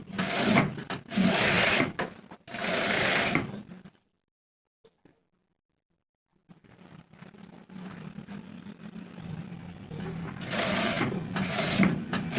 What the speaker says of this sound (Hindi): इसको मोड़ लेंगे लुपियों को और यहाँ पर सिलाई लगा लेंगे